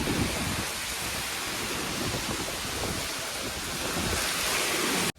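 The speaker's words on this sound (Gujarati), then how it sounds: "ફૂલ પવન સાથે વાવાઝોડું રહી ગયો" Heavy rain pours steadily in a windstorm with lightning, deep rumbles of thunder rolling underneath, a dense, loud storm that continues without a break before cutting off abruptly.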